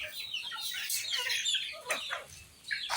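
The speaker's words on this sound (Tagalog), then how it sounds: "Ano yung mga manok ko?" Backyard chickens cluck and chatter close by, overlapping bursts of clucks and squawks from several birds with no talking.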